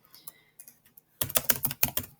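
Fingers type on a computer keyboard, a few soft scattered taps giving way to a quick, louder run of close key clicks.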